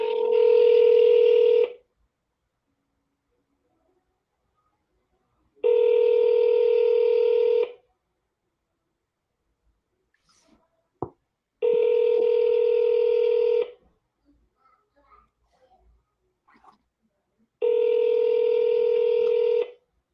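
Telephone dialing tones sound in four loud, steady beeps of about two seconds each, separated by silent gaps, with a faint click between them.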